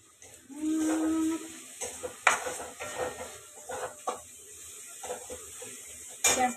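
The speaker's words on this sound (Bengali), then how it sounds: "এই দেখো পেঁয়াজটা ভাজছি" Onions frying in a pan in a home kitchen, a soft continuous sizzle with scattered stirring scrapes and utensil clinks against the pan, close but fairly quiet.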